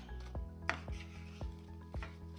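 Apple pieces stirred in melted butter in a pan, a quiet steady sizzle under regular knocks of a spoon against the pan, about five taps.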